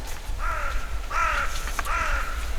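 A crow caws three times in a steady rhythm, harsh and fairly close, over a constant low outdoor rumble with no speech.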